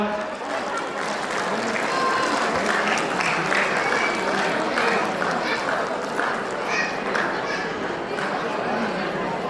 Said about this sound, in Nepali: कृपया ताली बजाइदिनु होला।